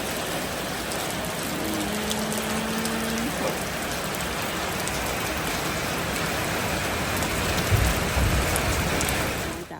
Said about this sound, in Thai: เย็นแล้วฝนตกแล้ว